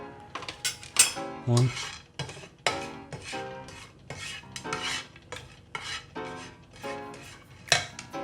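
A Tefal utensil stirs bulgur in a pan, giving irregular scraping and clinking strokes with a soft sizzle beneath, fairly close and moderately quiet, with a single spoken word.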